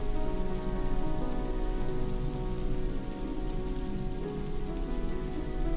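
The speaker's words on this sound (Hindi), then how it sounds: "इतनी बारिश में यहाँ क्यों आए हो?" Heavy rain drumming steadily on surfaces, a dense continuous patter at close range with faint rumbles underneath and no voices.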